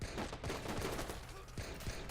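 Dense bursts of Watch Dogs gunfire crackle almost nonstop, sharp shots piling over a constant loud background of game noise.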